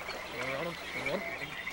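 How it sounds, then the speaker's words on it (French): Cartoon frog croaking in a French animated feature, a couple of warbling, voice-like croaks over a steady musical background, moderately quiet. "cette grenouille parle un drôle de dialecte"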